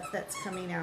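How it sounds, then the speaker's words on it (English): Small dog's squeaky toy squeaks in a couple of quick bursts beneath a woman's ongoing speech indoors. "That's my dog playing with his toy."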